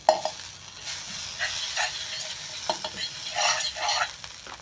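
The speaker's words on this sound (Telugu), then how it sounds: "ఇప్పుడు పేనం గరం అయ్యాక ఇలా బటర్ వేసుకోవాలి." Butter sizzling in a hot pan while a cheese sandwich is fried, a steady soft crackle with brief louder bursts of frying and stirring, close and alone.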